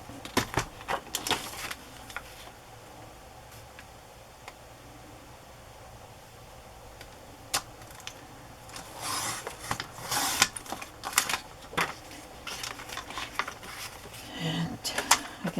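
A paper trimmer slices a strip of paper 2.5 inches wide while making journal pockets, with a series of close, dry scraping and clicking strokes separated by quieter handling and rustling of the paper.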